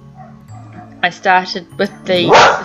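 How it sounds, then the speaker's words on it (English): A pet dog barks and yips in a series of short, close, loud bursts that overlap with a person talking, ending in a longer whining bark. "that was my dog"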